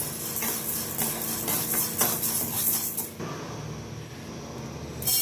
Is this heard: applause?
no